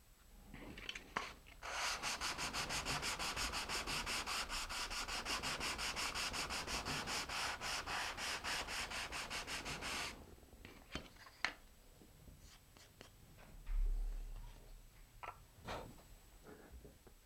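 Rocket glider wing panels get their edges sanded by hand, a rapid rhythmic rasping of strokes lasting several seconds, then scattered softer rubs and handling sounds.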